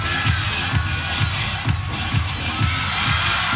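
A gymnastics meet crowd in the Mizzou vs. Kentucky arena cheers loudly at a strong finish, a broad sustained roar with rhythmic clapping-like pulses underneath.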